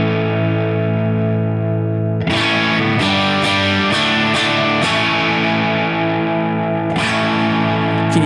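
An electric guitar played through a Line 6 Helix with a distorted, chorus-tinged amp tone, sustained chords ringing out with sharp strummed attacks, captured as the mic moves off the speaker's dust cap.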